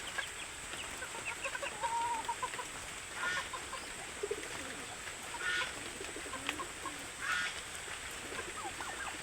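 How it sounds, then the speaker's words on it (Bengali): Chickens and roosters cluck on a small rain-soaked farm with turkeys and goats, making intermittent soft calls at moderate distance over a constant background hiss. "এই 3টা মোরগ আছে"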